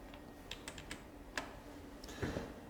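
Calculator buttons pressed in a few quick, light clicks, scattered taps with short gaps, faint against a quiet room.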